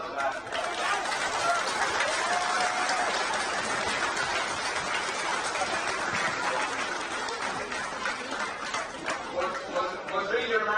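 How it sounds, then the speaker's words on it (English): A crowd at a Westmeath GAA senior football final replay applauds in a sustained, dense wash of clapping and chatter that stays loud for the whole stretch. "I think the whole club deserves a round of applause for that."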